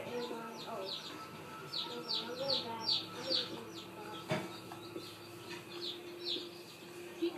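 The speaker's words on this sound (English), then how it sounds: "Okay, I'm gonna kill these chickens." Chickens clucking and chirping in the video game Minecraft, a run of short high calls repeating over a few seconds with a faint background hum, with no speech over them.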